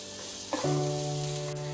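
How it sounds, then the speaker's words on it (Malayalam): Broccoli and vegetables sauté in a pan for soup, a close, steady sizzle that rises sharply about halfway through and then holds on with a constant frying hiss. "അപ്പൊ ഇതെല്ലാം കൂടി നന്നായിട്ടൊന്ന് മുരിഞ്ഞ് വരട്ടെ."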